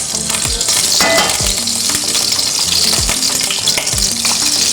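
Ghee hits a hot pan and sizzles loudly and continuously, with a few soft knocks from the pan and spoon along the way.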